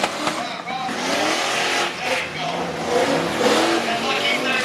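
Chevy and Ford tough trucks racing on a dirt track at a STORM Tough Truck event in Pittston, PA, engines revving and roaring loudly under an announcer talking continuously.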